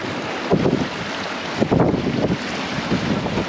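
Strong wind roars and buffets across a sailboat under way at about 20 knots, loud and steady with gusty surges, mixed with rushing water and hull noise.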